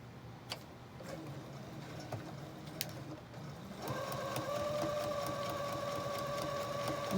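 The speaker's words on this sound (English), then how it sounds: "I'm going to head back over here to the sewing machine and run that sewing line down" A sewing machine runs a seam along a zippered pouch, starting after a few seconds of quiet clicks and handling, then settling into a steady close mechanical whir with a faint whining hum.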